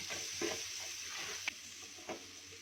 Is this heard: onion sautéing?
yes